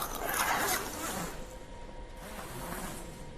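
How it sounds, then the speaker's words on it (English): A zipper on a festival tent membrane being drawn closed, a steady rasping run that fades into softer fabric rustling, heard close up with no talking. "To install the backdrop, you have to find the middle and then to connect it to the zipper"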